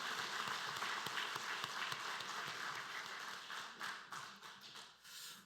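A church congregation claps in encouragement for the choir and praise team at a year-end Sunday service, a quiet, distant patter of many hands that thins and fades toward the close.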